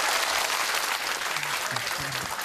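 A studio audience at a comedy show breaks into loud, dense applause, a continuous roar of many clapping hands held steady throughout, with faint voices murmuring underneath near the end.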